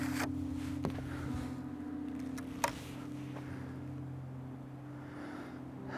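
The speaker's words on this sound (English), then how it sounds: "See if we can wait for this wind to calm down just a smidge." Wind gusts buffet the microphone over a low, steady mechanical hum, with a couple of brief sharp clicks.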